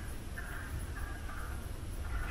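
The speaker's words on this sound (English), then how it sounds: "Yeah, that's frogs." Frogs calling from a creek in wooded hills on Tussey Mountain, a continuous faint chorus of croaks and trills under steady ambient noise, heard from a distance.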